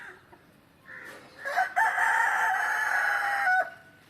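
A black rooster crows once, a loud drawn-out call rising and holding for about two seconds before cutting off, with a softer cluck just before it.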